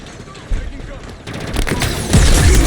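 Gunfire in a Halo video game match, a pistol firing sharp close shots that build into heavier bursts and booming impacts, loud, with a player's voice talking over it.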